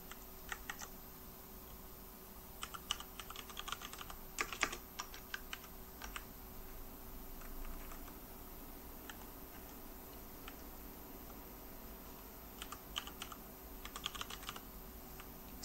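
Typing on a computer keyboard while editing a text file, a quiet run of irregular key clicks in short bursts with pauses, close by, no talking.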